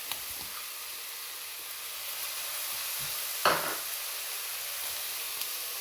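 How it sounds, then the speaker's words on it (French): Peppers, carrots and leeks sautéing in a pan: a constant bright sizzle with a brief louder crackle and scrape partway through as the vegetables are stirred, close and steady. "On va bien faire revenir tout ça."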